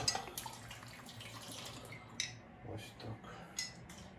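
Water pours and splashes into a cooking pot for kazan kebab, a trickling, dripping flow with light clinks of utensils, fairly quiet and close.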